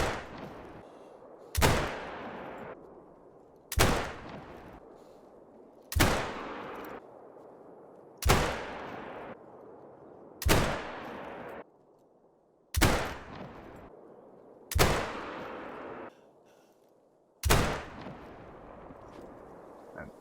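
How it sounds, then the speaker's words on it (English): Zagan .22-250 rifle fired at the range in theHunter: Call of the Wild, nine loud sharp shots at steady intervals of about two seconds, each with a decaying echoing tail. "And that is 10 shots from 150 meters"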